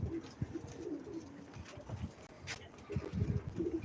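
Soft, low pigeon coos repeat in short phrases, close by, with faint rustling and a few light knocks in the background.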